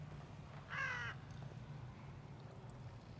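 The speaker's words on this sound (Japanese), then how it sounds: "カラスかな？" A crow caws once in a short burst inside the horror video game The Evil Within, heard over a low droning game ambience in a rural village setting.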